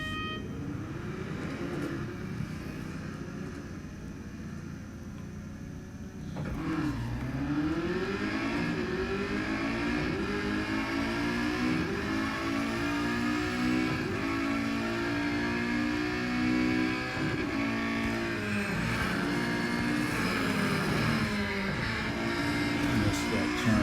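Race car engines in the Real Racing 3 mobile racing game drone steadily and rise in pitch as the cars pull away, a continuous, fairly loud layered engine roar from a cockpit view with no talking.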